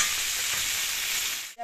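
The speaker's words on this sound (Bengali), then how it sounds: "ওই তেলের মধ্যেই অল্প একটু সরষের তেল দিয়ে বসিয়ে দিলাম।" Mustard oil heating in leftover fish-frying oil gives a steady, loud sizzle and hiss that drops out at the very end.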